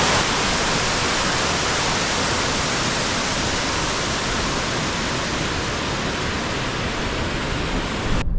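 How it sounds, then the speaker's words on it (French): A steady, full roar of falling water in Jamaica, broadband and constant throughout, like a waterfall heard up close with no voices. "Tu as les cascades."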